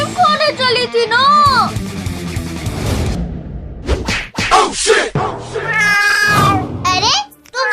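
Cats meow and screech in a Hindi comedy skit, several rising and falling yowls mixed with loud, excited voices and sharp smacking sounds.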